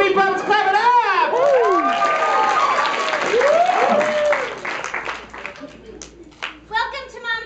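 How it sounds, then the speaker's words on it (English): Audience applause at a live comedy show, a dense burst of clapping that swells and then breaks into scattered claps and whoops as it fades. "Mrs. Meatballs, clap it up!"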